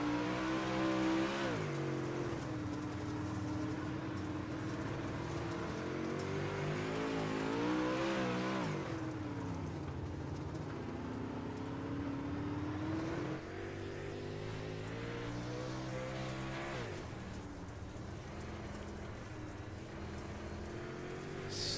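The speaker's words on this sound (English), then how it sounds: "Let's do a couple of laps around the Lucas Oil Speedway on board with the 23 car, the Alpha Industries 23 entry of Chase Barb" Onboard a super late model race car, number 23, lapping Lucas Oil Speedway: the engine roars continuously with pitch rising and falling through corners and straights, rumbling loud and close with no talk.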